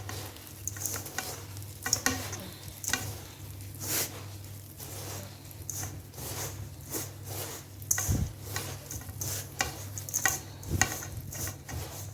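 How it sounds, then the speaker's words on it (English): Liquid ingredients being stirred into a homemade exfoliating body polish scrub, a steady wet swishing and scraping in a bowl with occasional sharper knocks, close and continuous with no voices. "I'm going to be pouring the liquid ingredients inside this place. So I'll be mixing it up."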